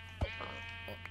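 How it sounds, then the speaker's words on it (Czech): A sheep in the Minecraft video game bleats once: a short, fairly faint bleat over a low steady background hum. "Další ovce, to je můj cíl."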